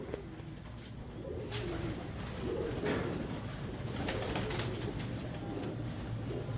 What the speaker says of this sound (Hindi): ये सारे के सारे कस वाले कबूतर हैं